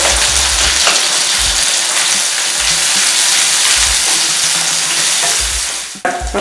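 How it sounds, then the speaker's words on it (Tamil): Black pepper, cumin and curry leaves fry in hot oil, a loud, steady close-up sizzle with occasional stirring scrapes and a brief clatter near the end. "மிளகு, சீரகம் எல்லாமே கொஞ்சம் நல்லா வறுத்துக்கலாம்."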